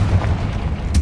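Confringo explosive spell in Hogwarts Legacy lands as a deep, booming blast with a low rumble and a sharp pop near the end, short and loud.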